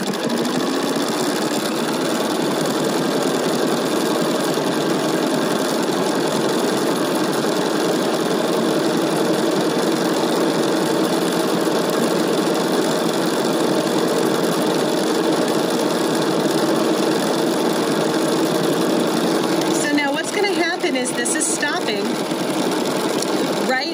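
A Bernina sewing machine in combination mode stitches out lettering, humming steadily and rapidly up close for the whole stretch, with a brief rattle of handling near the end.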